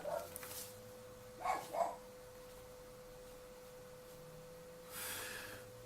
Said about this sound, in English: but that dog is annoying. It ruined several videos of mine.